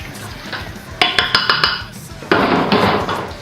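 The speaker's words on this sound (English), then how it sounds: "And give it a good stir." Meat stirred in a pot over high heat, a spoon clattering and scraping against the metal in quick bursts, loud and close beneath a faint sizzle.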